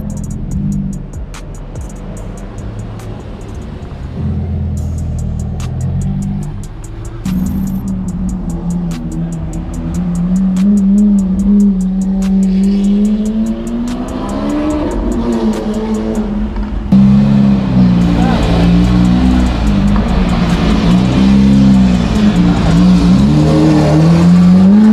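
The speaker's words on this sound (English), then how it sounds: "another highlight of the day, the Lamborghini Revolto" Lamborghini Revuelto supercar on a London street, its engine revving loudly and rising in pitch as it accelerates and drives past close by, with a sustained roar and brief sharp blips.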